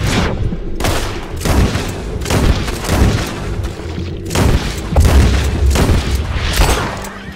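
Gunfire in Red Dead Redemption 2, at Beecher's Hope: a loud, close volley of repeated booming shots in irregular bursts, with heavy reverberant tails overlapping for several seconds.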